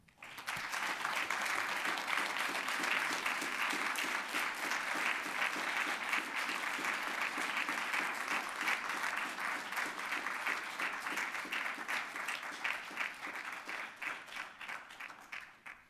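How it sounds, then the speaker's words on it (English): Sustained applause from a large crowd welcoming a speaker at a Black Student Union event, loud and steady for a long stretch before gradually tapering off at the end. "give you a round of applause for Mr."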